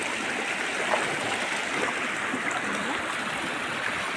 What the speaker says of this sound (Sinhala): ඉතින් ගලාගෙන යන වතුර